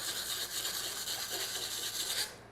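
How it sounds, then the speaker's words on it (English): Sandpaper rubbed by hand across the freshly cut edge of a push pole, giving a steady dry rasping scrape that runs continuously, close and fairly quiet, with no talking. "sand the edge of the pole,"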